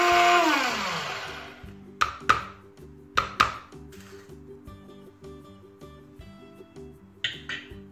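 A blender grinding dried garlic into powder: a loud motor roar at the start that winds down, then a series of sharp knocks and pulses as the jar is tapped and restarted, with the motor humming between them.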